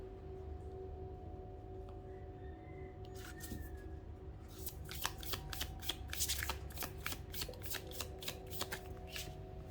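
A deck of tarot cards shuffled close up during a card reading, with soft riffling that grows into a dense run of crisp, rapid flicks and snaps over the second half, alone against a low steady background hum.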